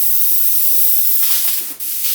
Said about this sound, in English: Let's just spray it on this.